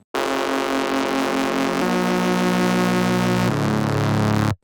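Gritty Reese bass synth built from two detuned saw waves pulled further apart, a sustained buzzing drone holding three long notes in sequence, loud and alone without talk.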